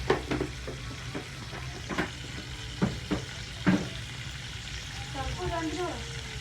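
Dried red chilies frying in hot oil for a street-style chutney, a steady close sizzle with occasional pops and stirring clatters, and a faint voice near the end.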